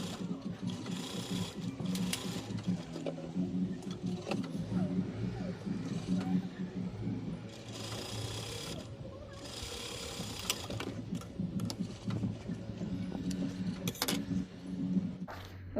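A sewing machine stitches the lining of a party frock with a steady mechanical whir and rapid needle clatter, running in bursts with brief pauses throughout while someone talks in between.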